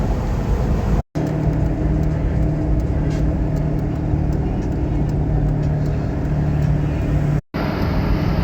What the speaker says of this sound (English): now we're being overtaken by a vintage vehicle from the UK